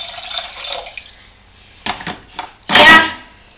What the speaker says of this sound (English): Here, I pour some water.